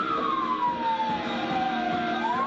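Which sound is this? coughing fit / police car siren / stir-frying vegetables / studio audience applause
police car siren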